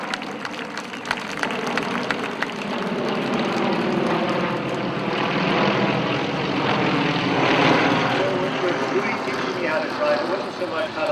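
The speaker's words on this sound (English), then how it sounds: "I'm going to let these planes fly over here." Propeller aircraft passing overhead at a memorial gathering, a steady broad engine drone that swells toward the middle and holds loud throughout, with a murmur of crowd and voices beneath.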